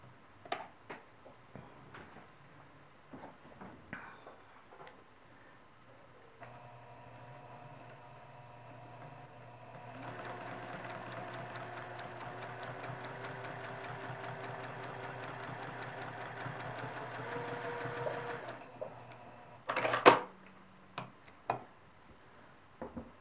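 A sewing machine runs along the seam allowance, joining quilt pieces for a map quilt, with a steady mechanical whir and fast ticking stitches for about twelve seconds, bracketed by quiet handling clicks and a sharp clatter near the end.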